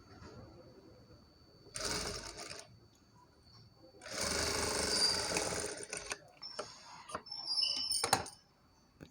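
A sewing machine stitches double-folded piping onto slippery saree cloth in two loud bursts of rapid needle whirring, separated by quiet pauses, followed by a few short clicks and a brief final run.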